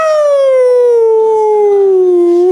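A voice imitates a lone wolf howling, one long sustained howl that starts high and slowly slides downward, loud and close, before breaking off.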